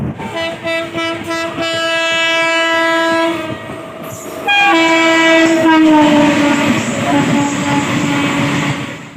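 A train horn blares in long sustained blasts, pausing briefly before sounding again, over the rumble and clatter of rolling rail cars as the express train enters the Ahiron rail bridge.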